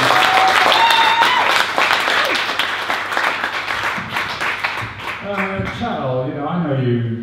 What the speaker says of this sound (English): can we have a round of applause for Andre for the film director?